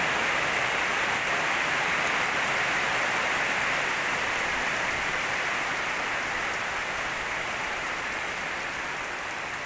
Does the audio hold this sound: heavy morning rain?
yes